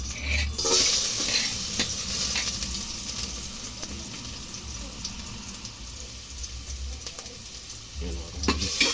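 Food frying in a pan for a home-cooked chicken tinola, with a steady sizzle and scraping stirring sounds running throughout, fairly close and continuous, no talking.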